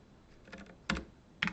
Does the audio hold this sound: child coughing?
no